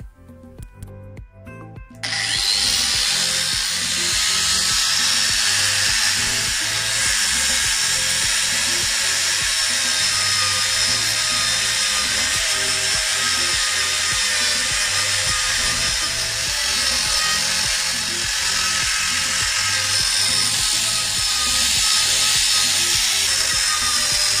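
A Manpa Tools multi cutter fitted with a cutting accessory starts up after a brief rattle and runs continuously with a loud, high, steady buzzing whine and a rough vibrating undertone, close up and without speech.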